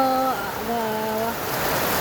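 Rain hisses steadily in the background while a tonal voice or sound rises over it in short stretches, during a night downpour at home where buckets and bowls catch the leaks.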